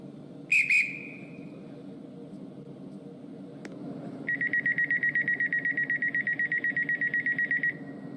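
In the video game Stepford County Railway, a sharp double whistle blast from a train guard, then quiet rumble, followed by a long rapid electronic beeping tone like a door alarm.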